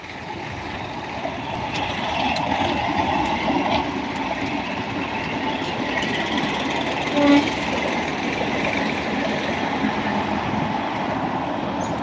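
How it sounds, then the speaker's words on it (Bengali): Ranaghat local train passing near the Nashipur rail bridge, a steady broad rumble of wheels and carriages heard from beside the track, holding at an even, moderate level without a clear approach or fade. "আর সাইড থেকে বেরিয়ে যাচ্ছে রানাঘাট লোকাল দেখতেই পাচ্ছেন"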